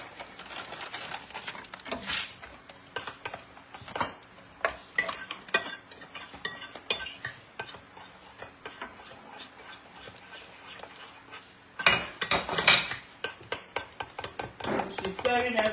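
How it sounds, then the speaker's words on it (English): Utensil scraping and knocking against a bowl as cabbage bread ingredients are stirred together, a steady run of clinks and scrapes with louder bursts near the end; faint speech is present in the background. "She's stirring everything together."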